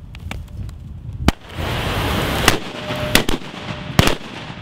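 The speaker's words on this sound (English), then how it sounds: "This one right here is going to kick off 7 submunitions that are really cool to watch" A multi-bang grenade bursts into seven submunitions, giving a series of sharp, loud cracks spread over several seconds with hissing and crackling between them, like firecrackers going off outdoors.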